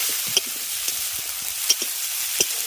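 Dried mango pieces frying in oil for a sour fish curry, a steady close sizzle broken by a few soft clicks of stirring.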